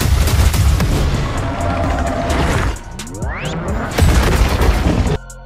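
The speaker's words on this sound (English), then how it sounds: "When Kong punched the building with his new glove, it dispersed some energy exactly Godzilla's atomic breath to blow that building" In a Godzilla x Kong trailer, Kong's energy-glove punch blasts a building, heard as loud booming impacts and rumbling destruction, followed by a rising whooshing sweep and another heavy hit before a sudden cutoff.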